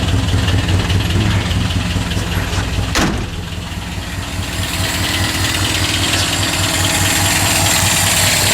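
A Subaru EA81 flat-four engine idles steadily after start-up, a close, continuous rumble with a brief sharp transient near the start before settling back into an even idle.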